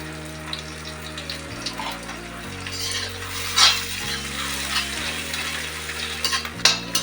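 Onions frying in a pan for a mutton curry with curd, a steady close sizzle with bursts of crackle and occasional clinks of a stirring spoon, no voices.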